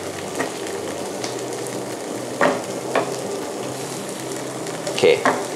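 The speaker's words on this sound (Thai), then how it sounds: "ผมผัดให้เขาได้กลิ่นได้รสของแกงเขียวหวานไปก่อนนะฮะ" Eggplant stir-fried in a wok with green curry paste, a steady close sizzle throughout with a few sharp scraping spatula strokes.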